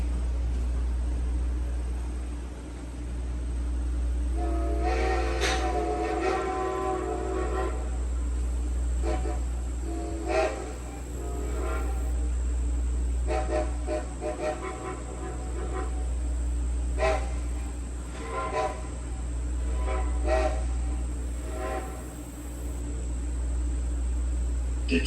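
Steam train whistle at a rural railroad crossing on the Strasburg Railroad, sounding several separate blasts, each followed by fainter echoing answers, all over a steady low rumble of the moving train.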